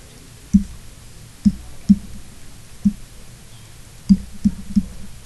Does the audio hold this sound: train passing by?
no